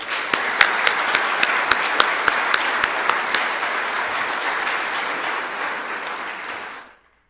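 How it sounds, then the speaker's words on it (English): An audience at a university honors convocation applauds the finalists with a steady, dense roar of clapping. A few sharp individual claps stand out near the start, and the applause runs for about seven seconds before stopping abruptly. "Would you all please join me in giving a round of applause to all our finalists?"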